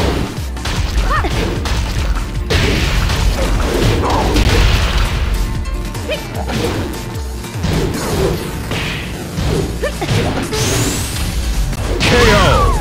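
Rapid punches, kicks and heavy thuds from a Tekken 6 fight, landing continuously at close range with dense overlapping smacks and crashes throughout.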